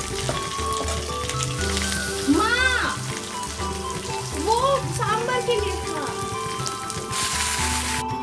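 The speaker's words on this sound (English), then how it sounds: "put the mustard for tempering" Mustard seeds sizzle and pop in hot oil while tempering for South Indian sambar and rasam, a steady frying hiss running throughout with brief chirping sounds and a background voice.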